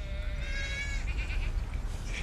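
A sheep bleats once, a wavering call up close over a low rumbling background, with a newborn lamb's flock nearby.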